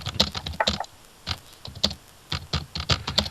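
Rapid typing on a computer keyboard during a tabletop role-playing session, irregular bursts of crisp close key clicks separated by short pauses, with no talking.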